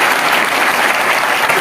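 A rally crowd in Haryana breaks into dense, loud applause, a steady wash of many hands clapping together with no pauses for the whole brief stretch.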